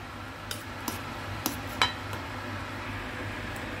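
A spoon taps and clinks against a pan while beaten egg with preserved vegetables is stirred, giving a few sharp, spaced metallic ticks over a steady low hum.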